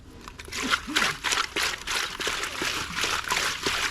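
Something is rinsed and swished by hand in salted water, with close, continuous sloshing, trickling and splashing and a faint voice in the background.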